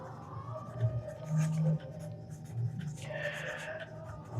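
Pen or pencil writing out a math exercise by hand, a light scratchy scribble running steadily under a teacher's voice speaking in Hindi, with some classroom murmur around it.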